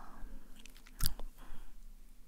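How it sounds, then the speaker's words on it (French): A pet crunches dry kibble from a small food mat, producing a brief cluster of crisp chewing bites near the middle, close and fairly quiet against a soft background. "Nana mange son petit tapis de croquettes"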